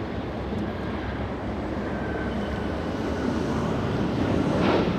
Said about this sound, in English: we're going to go to Alaska Airlines, a 737 coming in